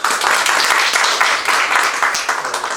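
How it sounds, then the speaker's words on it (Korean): Brief, brisk clapping from a small gathering at a church press meeting, welcoming reporters, a few seconds of close, steady applause. "우리 박수 한번 환영해 주시죠"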